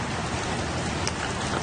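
Steady rain falls on plants outdoors, a dense, even hiss of drops with no pauses and no voices.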